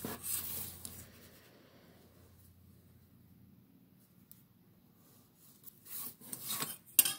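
Pencil drawing a square on paper for a one-point perspective building sketch: light scratchy strokes at the start, a quiet pause, then more rasping strokes near the end, close and dry with no talking.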